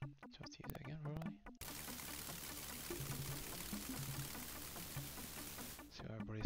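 A steady shower hisses in the point-and-click game Dark Seed, running for about four seconds as a continuous broadband spray. A voice talks briefly just before it starts and murmurs faintly beneath it.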